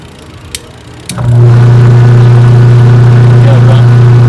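A washing machine's spin-dryer motor, on a unit with a grounding fault, kicks on after a couple of clicks and settles into a loud, steady hum up close.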